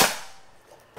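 A single sharp crack from a Predator Bocap Black Army Phantom PCP air rifle, loud and close, decaying quickly into near silence before a faint trailing noise.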